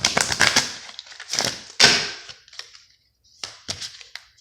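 A deck of oracle cards shuffled by hand gives bursts of crisp riffling and snapping card sounds, several quick clusters with short pauses between them, close and fairly loud with no talking.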